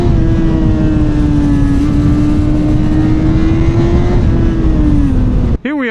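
A Honda CB1000 SP Hornet motorcycle engine held at high RPM while riding, a loud steady whining drone with wind noise, close and continuous, cutting off abruptly at the end.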